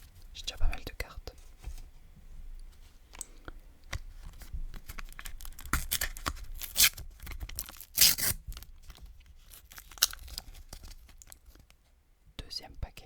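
A Panini sticker packet is torn open in close, quiet ASMR style, with sharp paper rips and crinkles in irregular bursts, soft whispered talk between them.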